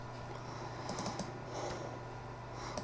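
Keys on a computer keyboard are tapped in a short, quiet burst of clicks over a steady background hum.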